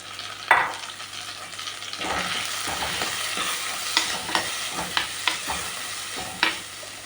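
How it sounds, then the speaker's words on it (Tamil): Onions and chopped tomatoes sauté in a pan for mutton kulambu, a continuous oily sizzle broken by several sharp clinks and scrapes of a stirring spoon against the pan. "நம்ம இதில் தக்காளி, 2 தக்காளி அரிஞ்சு வச்சுருக்கேன், அதை சேர்த்துக்கலாம்."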